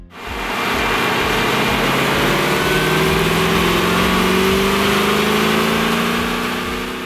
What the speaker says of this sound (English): These determine the tone and volume of the exhaust, changing from fully closed